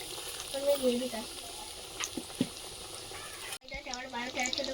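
Egg cutlets frying in moderately hot oil, a soft bubbling sizzle under a voice, broken by a sudden drop and a fresh burst of crackle as another piece goes in.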